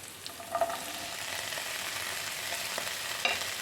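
Okra, onion and green chillies fry in a pan for vendakka mezhukkupuratti, giving a soft continuous sizzle with a few light taps of the stirring spoon.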